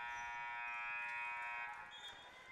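A loud, sustained electronic buzzer sounds for about two seconds at the end of a quarter in a varsity high school basketball game, then fades slightly with a faint echo in the gym.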